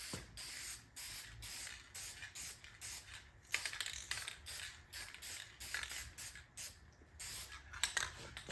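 A spray can lays a light dusting coat on a 57mm anti-tank gun model in short close hissing bursts separated by brief pauses.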